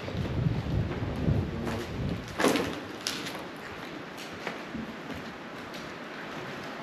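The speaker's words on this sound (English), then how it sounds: "It's raining inside." Steady hiss of rain falling inside an abandoned prison, with a muffled thump and a few soft knocks near the start.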